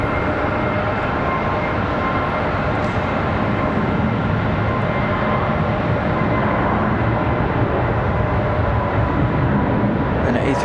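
An Airbus A321 airliner departing Charlotte Douglas International Airport, a loud, steady broadband jet roar that holds constant throughout.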